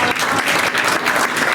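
A church audience at a sermon claps steadily in dense, continuous applause, loud and close throughout.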